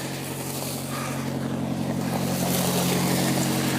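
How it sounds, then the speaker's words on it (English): A car rolls up a newly built driveway, its engine a steady low hum growing slightly louder and closer, with broadband road and wind noise around it and no voices. "There's Travis driving up the new driveway."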